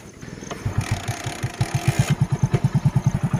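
A motorcycle engine runs with a steady rhythmic chugging pulse that picks up as a gear is engaged, close and fairly loud, with no talking over it.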